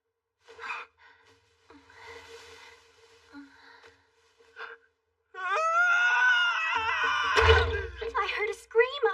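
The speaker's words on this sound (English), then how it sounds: "I heard a scream." A girl in a dubbed anime episode screams in a sustained, high-pitched shriek. Before it come gasps and soft breathy vocal sounds, and a low thump hits near the end.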